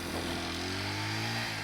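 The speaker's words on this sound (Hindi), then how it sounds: "और चलिए दोस्तों अब यहाँ पर बाइक को स्टार्ट करते हैं।" 2025 TVS Apache RTR 200 4V motorcycle engine pulling in first gear on the road, a loud, steady buzzing drone with a slight pitch rise, under heavy wind rush and without talk.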